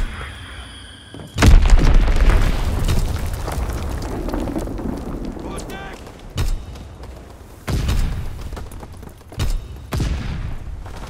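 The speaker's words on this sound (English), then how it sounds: "Enemy bomb incoming. Get to cover." An enemy bomb detonates in the World War II shooter Call of Duty WWII with a loud, deep blast that rumbles on, followed by scattered distant booms and gunfire bursts.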